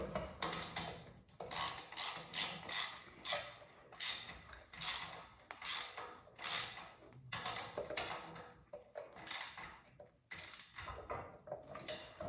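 A nut is tightened by hand on a Yamaha Blaster ATV during a rebuild, giving repeated ratcheting clicks in short bursts, close and fairly quiet, with no talking.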